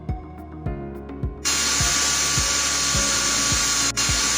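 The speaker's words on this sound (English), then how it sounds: "Pick the reamer and start reaming." A surgical reamer grinds into a pelvis during a virtual-reality total hip replacement: a sharp, loud, steady powered whine starts about a third of the way in, with regular low thumps repeating underneath throughout.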